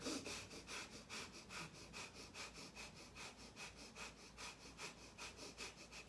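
Rapid, rhythmic forceful breath-of-fire breathing, quick sharp exhalations repeating about twice per second, close and steady throughout.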